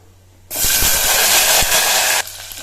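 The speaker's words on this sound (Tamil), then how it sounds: "ஒரு இருபத்தஞ்சி சின்ன வெங்காயத்தை சேர்த்துடலாம்" About twenty-five small onions drop into hot oil, setting off a sudden loud, steady sizzle that holds for nearly two seconds before cutting down to a faint crackle, with no talking.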